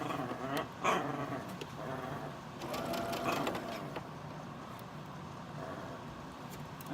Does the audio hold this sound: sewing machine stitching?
yes